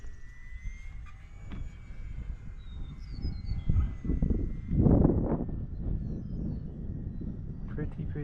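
An FMS Pilatus PC-21 RC model plane's electric motor runs at full throttle, a steady high whine that swells midway while someone talks over it.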